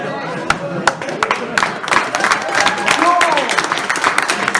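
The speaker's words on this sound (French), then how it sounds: "Un maximum d'applaudissements pour Anthony Boy" An audience at a Swiss pony convention claps for a guest, scattered claps building into fuller applause, with a voice speaking over it.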